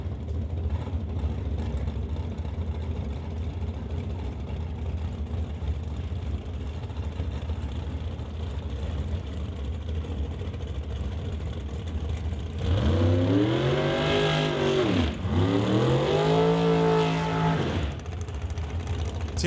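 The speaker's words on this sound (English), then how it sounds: "how about we kick it off with a pair of dragsters" A pair of dragsters at a drag race: a steady engine rumble holds under crowd ambience, then two loud full-throttle runs rise and fall in pitch back to back, roaring close before fading.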